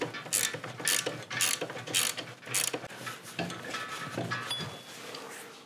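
Repeated ratcheting on old screws of a 60-year-old Pony moped being restored: five or six quick bursts of clicking pawl-and-gear rattle, close and fairly loud, with no talk.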